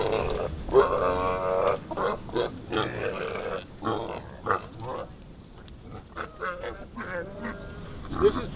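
Pot-bellied mini pigs grunting and squealing in a series of short, uneven bursts close by, loud at times, with no speech.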